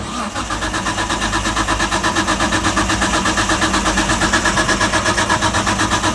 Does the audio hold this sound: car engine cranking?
yes